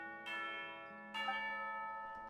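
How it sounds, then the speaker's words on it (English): A bell in Genshin Impact rings out for tea time, struck twice about a second apart. Each clear, resonant strike lingers with a long sustained ring and no voices alongside it. "You hear the sound of a bell."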